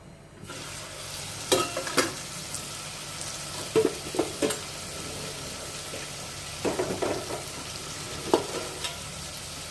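Potatoes with poppy seed frying in a pan, a steady sizzle broken by several sharp scraping stirs of a spoon, close and alone without talk.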